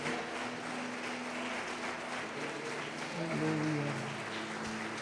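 Churchgoers applaud in a sustained, fairly faint wash of clapping lasting several seconds, with a held musical tone underneath.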